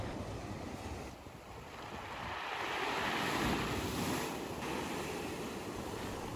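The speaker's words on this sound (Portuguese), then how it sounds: "O mar nesse dia estava revolto." Rough, churning sea breaking on a rocky beach below a large cliff, a continuous roar of surf that swells and eases, mixed with heavy wind buffeting the microphone.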